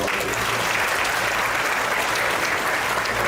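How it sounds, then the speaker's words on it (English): Sustained audience applause at a water conservancy meeting, dense steady clapping from a crowd filling the whole stretch without pause. "Let's give them a round of applause too."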